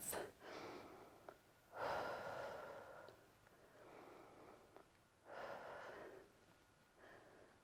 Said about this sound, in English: a few nice deep breaths.